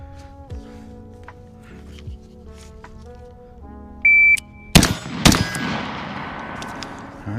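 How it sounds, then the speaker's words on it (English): Two close, loud rifle shots from an 11.5-inch SOLGW L89 carbine fired as a quick controlled pair at a drill range, preceded by a steady electronic timer beep and followed by fainter handling noise from a reload. "Next is going to be controlled rifle, 2 seconds, and then reload reality check, so another rifle reload."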